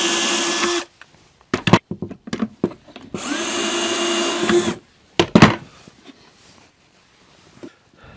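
A 3mm Vix self-centering bit drills pilot holes for Blum Compact 30C hinge mounting-plate screws on a face frame cabinet, two sustained loud whirring bursts of about a second each, separated by short clicks and knocks.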